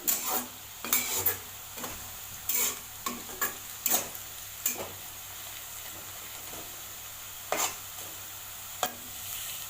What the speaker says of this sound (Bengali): যদি পেঁয়াজটা ভাজা হচ্ছে, এটা আরও লালচে করতে হবে